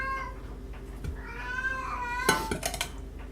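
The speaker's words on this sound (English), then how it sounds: "And the screaming cat." A cat lets out a loud, drawn-out screaming yowl in a home kitchen during baking, followed by a few clattering knocks of pans and utensils.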